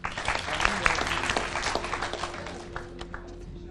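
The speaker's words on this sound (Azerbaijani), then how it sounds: "Alqışlayaq." A studio audience at a volunteer quiz competition applauds steadily, a dense burst of clapping that starts loud and gradually tapers off over a few seconds.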